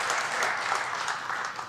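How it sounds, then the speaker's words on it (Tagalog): Church congregation applauding in a sustained, even patter of many hands clapping, steady and moderately loud for the whole stretch, with no voices over it. "Isa pa nga pong palakpak para sa Panginoon."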